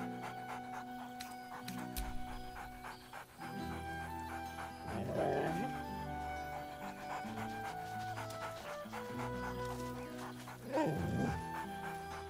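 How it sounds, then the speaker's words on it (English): Scratch, a dog in Baldur's Gate 3, gives a couple of bright, cheerful barks with soft panting and whimpers in between, set over a steady musical game score. "Scratch barks merrily in something like agreement."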